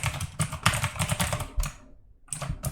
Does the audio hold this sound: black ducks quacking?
no